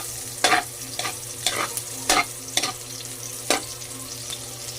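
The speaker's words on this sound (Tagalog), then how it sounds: "Haluin mo lang yan. Hanggang sa maging mag-golden brown yun guys." Food frying in a home-cooking pan is stirred until golden brown: about six scraping spoon strokes at a loose, uneven rhythm over a constant soft sizzle, close by with no voices.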